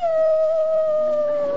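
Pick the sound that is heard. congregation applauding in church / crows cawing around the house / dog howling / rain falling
dog howling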